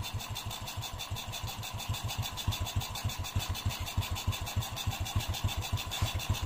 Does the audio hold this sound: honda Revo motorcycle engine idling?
yes